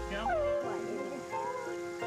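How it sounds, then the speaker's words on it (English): A dog trapped deep inside a pipe cries in distress, giving high, wavering whimpers and whines. The cries sound muffled and slightly distant behind steady background noise. "The heartbreaking cries of a dog in distress."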